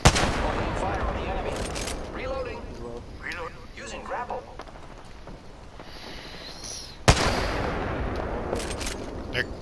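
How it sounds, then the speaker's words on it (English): Gunfire from the Apex Legends shooter game: a loud shot opens the clip and another sharp crack lands near the end, with scattered game sounds and bursts of activity in between. "Opening fire!"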